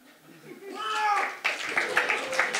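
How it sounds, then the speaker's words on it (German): Audience at a science slam in Freiburg claps for a slammer, the applause swelling from a few hands into a fuller burst that carries on with uneven peaks, with voices mixed in at the start. "Wie tönt euer Applaus für so einen Slammer?"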